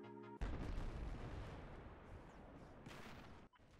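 A big explosion in the video game Battlefield bursts in suddenly, a loud booming blast followed by a rumbling decay that cuts off abruptly near the end.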